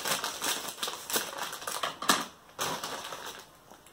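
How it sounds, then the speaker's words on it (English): Kettle-cooked Jimmy potato chips, original flavor, crunched between the teeth in a series of close, dry, crackling bursts with short pauses between bites. "it's a good kettle chip crunch"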